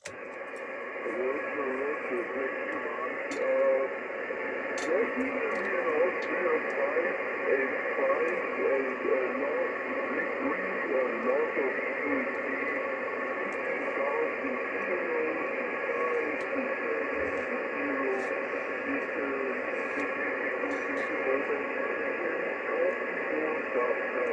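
A faint amateur radio voice transmission on the 10-metre band, received on a TS-830S transceiver with a 5/8-wave vertical antenna, drifts and fades under a steady hiss of static and noise for the whole stretch.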